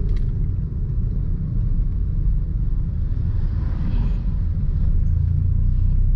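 Steady low rumble of a car driving in second gear on a busy road, engine and road noise continuous and moderately loud throughout with no voices.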